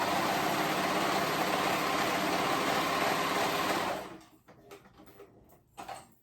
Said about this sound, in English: I'm using my cover stitch